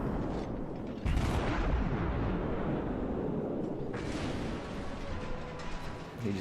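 Cleveland tier 6 cruiser in World of Warships firing its guns on the Two Brothers map: heavy booming salvos, a sharp onset near one second and another around four, with rumbling continuing between them, loud and close.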